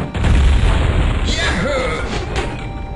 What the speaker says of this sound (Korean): 포탑 같은 것 좀 터트려 줄게요.